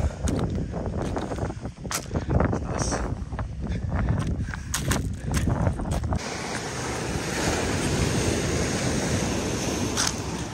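Strong waves break on a shore at low tide as heavy wind buffets the microphone, making a continuous rough roar with surging swells of surf and no talking.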